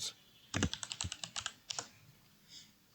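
Computer keyboard typing, a quick burst of about a dozen close key clicks lasting around a second, then one or two more taps before quiet.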